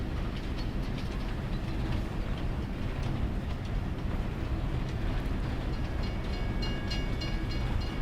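A train rolls along rails in Farming Simulator 22, a steady dense rumble that continues without a break, with a faint high ringing tone toward the end.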